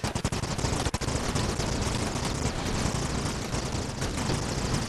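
An indiscriminate explosion set off in a video game, heard as a dense, loud, continuous roar of blasts and crackling bursts with a few sharp hits near the start and no one talking.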